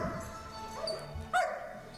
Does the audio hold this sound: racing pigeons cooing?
no